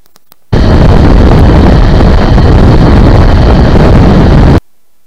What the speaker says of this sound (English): Basically what we had there was pretty much wind noise.